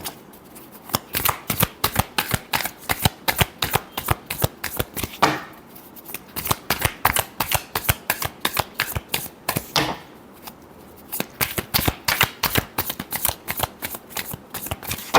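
A deck of tarot cards is shuffled continuously and rapidly, each riffle and slap crisp and close, with brief pauses between rounds and no talking.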